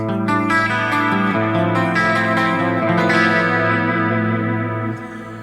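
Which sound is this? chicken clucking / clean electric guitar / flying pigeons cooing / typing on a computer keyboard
clean electric guitar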